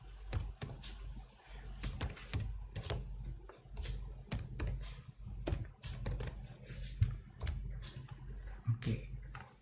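Someone typing the ipconfig/all command on a computer keyboard, quiet irregular key clicks in quick bursts, close up and fairly soft, with no voices.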